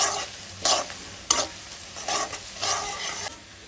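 Onions fry in mustard oil for chicken korma, giving a steady sizzle broken by bursts of stirring and scraping in the pan.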